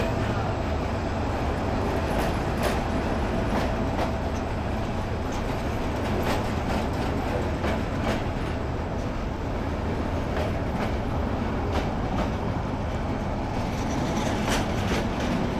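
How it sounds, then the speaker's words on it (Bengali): Probal Express train rushing past at speed, a loud continuous rumble and rattle with rhythmic wheel clatter filling the whole stretch, close by and steady throughout. "ট্রেন যাচ্ছে খুব স্পিডে"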